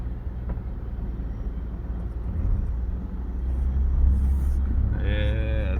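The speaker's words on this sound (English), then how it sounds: "Back tires are spinning." Jeep Gladiator EcoDiesel crawling up loose, washed-out flood material, its engine rumbling steadily as the rear tires spin and dig in, growing louder toward the end.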